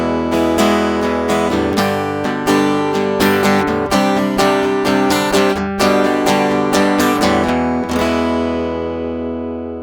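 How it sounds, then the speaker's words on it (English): An acoustic guitar heard straight from its pickup with no microphone, strummed chords and picked notes ringing brightly in a steady close pattern, ending on a chord left to fade, with no speech. "You're just hearing the pickup in this guitar"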